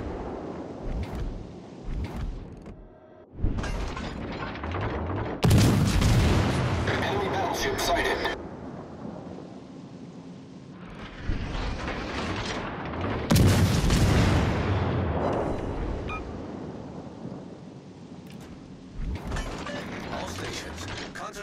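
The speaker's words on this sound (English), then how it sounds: "Concentrate fire on the enemy warship." Warship guns in a naval video game firing at an enemy ship: heavy booming salvos and mechanical clanking in bursts, loud and close, with quieter gaps between volleys.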